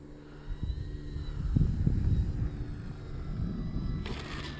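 An FMS PA-18 Super Cub radio-controlled model airplane with a 1300 mm wingspan comes in to land with flaps down. Its small engine gives a faint, steady hum that swells slightly mid-approach, heard alone at a distance.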